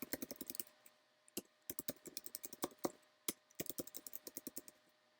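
Quick bursts of keystrokes on a computer keyboard, light close clicks in uneven runs with short pauses between them, quiet and with no talk over them.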